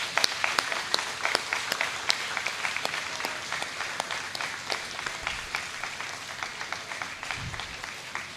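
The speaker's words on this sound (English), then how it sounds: "let's give the staff, the teachers, and everyone at PWU JASMS a warm round of applause" A graduation audience at PWU JASMS gives a warm round of applause for the staff and teachers, a sustained patter of many hands with scattered sharper claps that runs steadily for several seconds with no speech.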